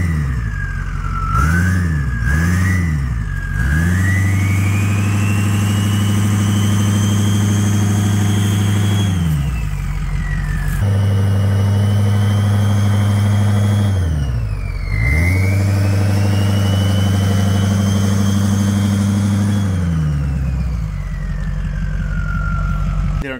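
A car engine breathing through an oversized pumpkin exhaust tip, loud and close, idling with repeated revs that rise and fall and long steady held stretches between them.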